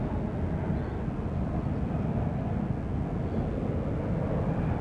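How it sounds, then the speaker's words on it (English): Qantas jet inbound from Bangkok on approach to Sydney Airport on a still morning, a steady low far-off rumble of engine noise holding constant throughout without any voices. "you can even hear that aircraft from this far away"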